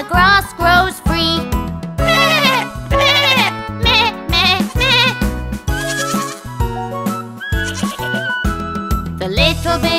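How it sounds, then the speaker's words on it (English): Wavering goat bleats repeat over a bouncy musical backing, loud and close, mixed in with the melody. "Once upon a time there were three billy goats."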